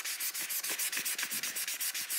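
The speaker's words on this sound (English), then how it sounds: "it's easy enough to just rotate the handle in one hand while sanding with the other" Rhythmic hand sanding of a chef knife handle at fine grit, quick even back-and-forth abrasive strokes, about seven per second, close and moderately quiet with no talking.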